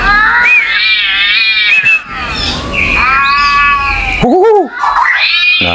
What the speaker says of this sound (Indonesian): pakai suara kucing ya.